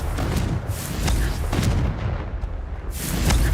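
A Confringo blasting spell erupts in Hogwarts Legacy, giving loud, dense rumbling booms that roll one into the next like artillery, with no gaps of quiet.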